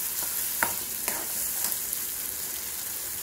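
Ground garlic paste frying in oil for a spicy garlic pickle, a steady close sizzle with a few light scrapes of stirring, no talking.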